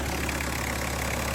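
A Peugeot 206 car engine idles close by with a steady low rumble and faint rhythmic knocking, no voices.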